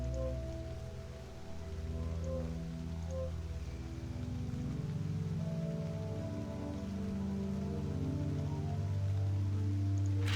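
Steady rain falls in the video game Eidolon, a continuous soft patter of drops on surfaces under a low ambient hum, with no talk throughout.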